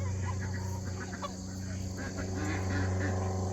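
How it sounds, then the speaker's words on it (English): Small chickens roaming loose around a backyard garden squawk and cluck in scattered bursts, fairly close, over a steady low mechanical hum. "Little chickens everywhere."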